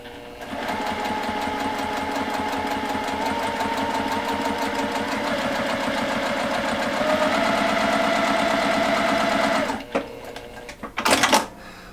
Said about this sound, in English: So let's see if we can't sew a little bit here for us.